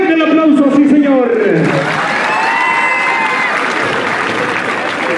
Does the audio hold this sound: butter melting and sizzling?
no